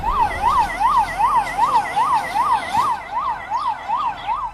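Ambulance siren wailing in a steady rising-and-falling two-tone cycle, loud and close, with faint road traffic rumbling underneath and no voices.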